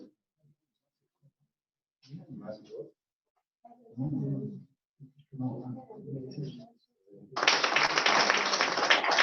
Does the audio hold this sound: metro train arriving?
no